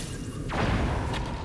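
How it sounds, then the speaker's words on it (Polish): Video game explosion in Zelda: Tears of the Kingdom, a deep booming thud that swells loud and close, with a second quick burst following near the end. "Tutaj jeden wybuch. Zaraz drugi wybuch od razu."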